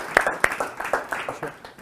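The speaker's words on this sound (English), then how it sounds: "Give Intisar a clap." Brief rounds of audience clapping for a volunteer called up in front of a group, with about seven sharp bursts of claps in quick succession, fairly close and moderately loud.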